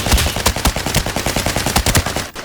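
Automatic gunfire from a gun in the video game Arena Breakout: Infinite rings out as one rapid, steady burst of loud, evenly spaced shots that stops abruptly near the end, with no voice over it.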